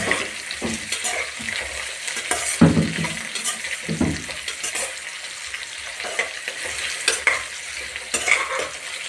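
Okra sizzles steadily in a hot pan while a spatula stirs and scrapes through it, producing irregular scraping knocks over a continuous frying hiss, with no talking.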